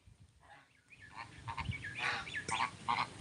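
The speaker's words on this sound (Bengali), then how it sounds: "এই যে দুইটা হাঁস ধরে আনছিলাম" Ducks calling close by in a rural setting, giving a few short nasal quacks and honks that grow louder over a few seconds against a quiet background.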